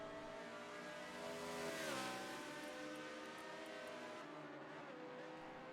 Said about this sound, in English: I just heard a car.